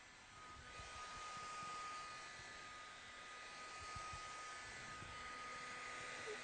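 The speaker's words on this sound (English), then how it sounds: "We heat the vinyl and we go directly into the recess of the deformation." A heat gun warms vinyl wrap over a dent: a steady, soft airy blower hiss with a faint electrical hum, constant and fairly quiet throughout, with no talking.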